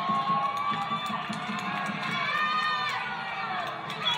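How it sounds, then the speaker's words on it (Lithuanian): A crowd of protesters cheers and shouts together, many voices blending into a loud sustained roar with scattered whoops, a little distant and continuous throughout. "žmonės ploja, žmonės džiaugiasi"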